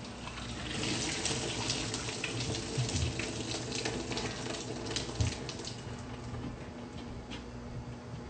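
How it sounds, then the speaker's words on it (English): Water from a pot of boiled potatoes pours steadily into a sink, a continuous splashing rush with brief clunks partway through. No one speaks. "So I'm just going to drain all the water."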